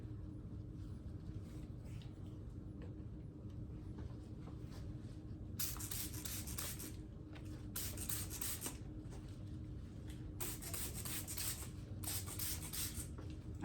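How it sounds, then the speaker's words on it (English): Four short hissing sprays from a spray bottle onto soil, each about a second long, come in quick succession after a quiet stretch, close and fairly soft. "I'm also going to spray"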